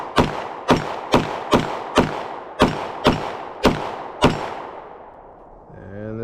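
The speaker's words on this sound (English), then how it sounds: "Let's hit steel. Give you all a couple rounds." An Echelon 4.0C pistol fires nine sharp, evenly spaced shots at a steel target on an outdoor range. The loud, close reports come about every half second, and a brief metallic ring follows at the end.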